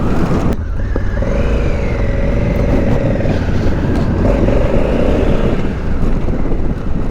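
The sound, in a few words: 2020 Honda Africa Twin motorcycle engine accelerating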